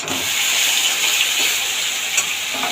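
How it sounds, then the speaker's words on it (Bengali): Chicken pieces frying in a mix of ghee and oil for egg chicken biryani, a steady close sizzle and crackle that holds evenly throughout with a few small spatters. "এবার চিকেনটাকে দিয়ে দেবো ওই ঘি আর তেলের মধ্যেই দেবো।"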